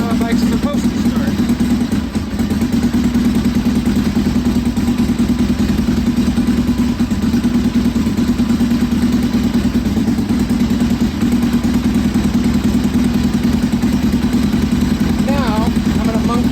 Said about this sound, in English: That's how a bike's supposed to start.